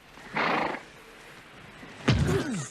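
A horse neighs twice near a highway, first a short rough burst, then a louder whinny with a falling pitch, both close and clear with no talking.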